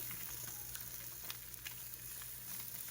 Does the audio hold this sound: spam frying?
yes